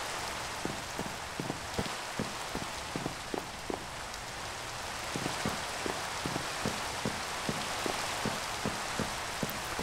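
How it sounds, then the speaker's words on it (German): Steady rain hissing in the Minecraft video game, a dense even wash with regular soft tapping drops throughout, no voices. "Es regnet und regnet und regnet."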